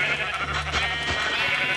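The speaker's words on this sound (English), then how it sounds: "Ah, many a sheep." A sheep in the video game Minecraft gives a short, clear bleat, close and alone.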